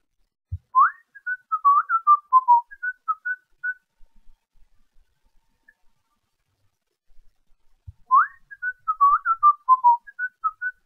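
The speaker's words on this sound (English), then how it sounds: "Sometimes, instead of talking, I just whistle." Two separate bursts of melodic whistling with a quiet pause between them, each a quick run of bright notes, close and alone.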